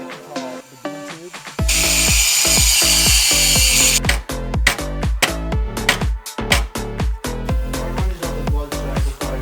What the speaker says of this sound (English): I'm about to see if I can grind off some more weld that should be done.